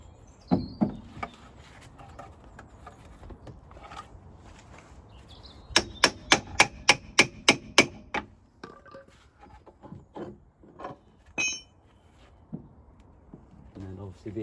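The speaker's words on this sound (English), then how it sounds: "I just have to quickly tap that with the little hammer" A rapid run of about seven sharp metallic taps from a small hammer during car front suspension work, with scattered clicks and knocks and some talking around them.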